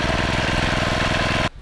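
The gas engine of a PCW3000 portable winch runs loud and close with a steady, rapid chugging, then cuts off abruptly at the end.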